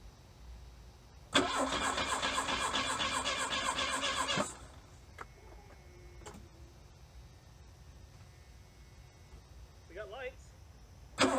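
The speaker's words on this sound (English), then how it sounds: "We're going to give it a crank right there." A 1982 Plymouth Reliant, dormant for 29 years, cranks loudly up close for about three seconds of steady starter churning without catching. It falls quiet, leaving faint clicks and a brief voice.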